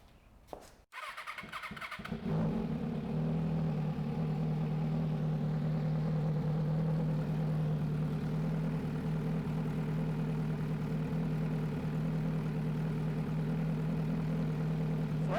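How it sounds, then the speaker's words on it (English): A motorcycle engine cranks and catches after a couple of seconds, then settles into a steady, loud, even idle that runs on unchanged, heard up close with no voices. "So I'm going to start the bike,"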